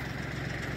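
A tractor fitted with a 7-foot blade idles in snow, a steady low rumbling engine note, close and continuous through the brief moment.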